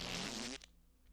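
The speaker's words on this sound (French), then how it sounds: "Vous pouvez péter, c'est génial." A cartoonish fart sound effect from a toilet mod in the video game Minecraft plays as one loud, raspy, sustained blast lasting about half a second before cutting off abruptly into quiet.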